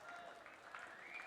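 Spectators clapping and cheering at an indoor junior cricket grand final, a steady, fairly faint wash of applause with crowd voices mixed in.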